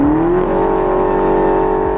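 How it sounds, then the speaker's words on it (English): A Range Rover Sport SV Edition 2 with a 4.4-litre twin-turbo V8 roars loudly under hard acceleration, a deep, continuous engine growl climbing in pitch, then holding steady, heard from close by. "that roar, the growl from the V8"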